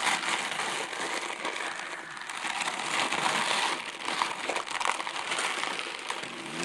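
Parcel packaging tearing and crumpling as a swap parcel is ripped open, a continuous dense rustle and crinkle of paper and plastic close up, lasting throughout with no talk.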